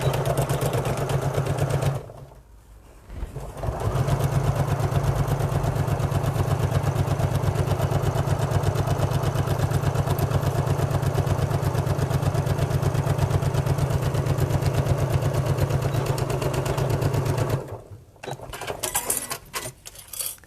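A sewing machine runs a long continuous seam on a bag, with a rapid even whirring and clatter up close, broken by short pauses at the start and end.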